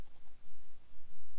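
A quick pair of soft computer mouse clicks, close and quiet, against faint background hiss with no talking.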